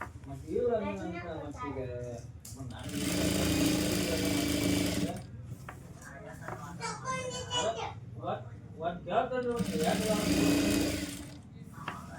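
A sewing machine stitches a kids' lehenga blouse in two loud, sustained runs of steady whirring, with someone talking between the bursts.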